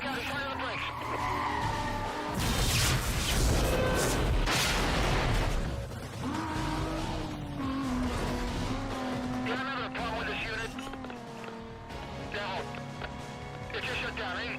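A car brakes hard and its tires skid and squeal during a police chase in a video game, with loud engine roar and a voice talking over it.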